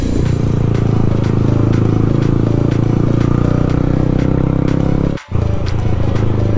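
A Suzuki Gixxer and a loud Yamaha R15 V3 race along a city road, with a loud, close, steady motorcycle engine drone and a brief dip in the noise near the end.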